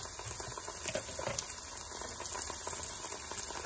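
Ginger garlic paste and curry leaves frying in a pan, giving a soft, steady crackle and bubbling patter that stays fairly quiet, with no voices.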